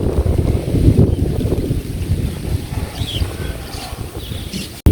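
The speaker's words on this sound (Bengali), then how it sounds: "হালকা হালকা বাতাস আছে।" Light wind blowing outdoors in a Bangladeshi village during the rainy season, a steady rumbling gust noise buffeting the microphone close up, with faint distant calls and chirps over it.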